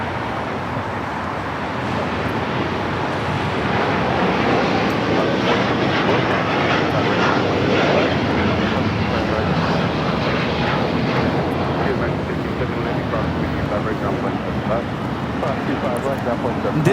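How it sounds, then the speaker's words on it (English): United Airlines Boeing 787-9 Dreamliner taking off from LAX for Hong Kong, a powerful rising engine roar that builds after the first couple of seconds and stays loud and dense, with a voice speaking over it. "This is United Airlines 801 taking off to Hong Kong on the 787-9 Dreamliner"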